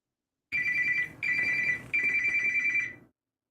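A telephone rings in three long electronic bursts, each separated by a short gap, loud and close with no talk over it.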